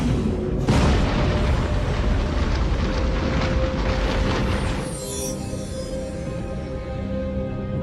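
A deep, roaring explosion effect for an exploding star's gamma-ray burst swells in loudly, rumbles steadily for several seconds, then thins into a fading, lower-pitched hum, with no speech.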